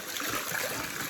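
Water pouring from a village spout, a soft continuous trickling splash heard faintly at a short distance for about a second.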